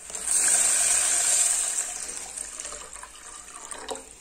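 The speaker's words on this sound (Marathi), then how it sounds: "नंतर पाणी ओतूया त्यात," Water poured into a pot of thin chickpea-greens curry, a steady rushing splash for about two seconds that then tapers to a softer trickle, close and alone with no talk.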